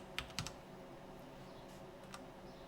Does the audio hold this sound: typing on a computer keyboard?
yes